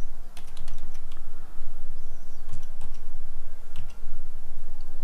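Typing on a computer keyboard, close and crisp, with rapid uneven clicks and a few heavier key presses over five seconds, no speech.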